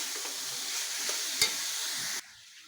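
Egg curry stirred in a pan with cumin and coriander, a steady close sizzle with scraping, one sharper scrape midway, before the sound drops away near the end.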